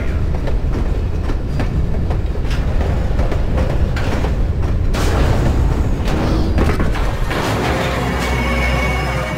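Cargo train in the video game TimeShift rolling out of a loading dock, a loud continuous rumble with rattling wagons and heavy clanks and booms throughout.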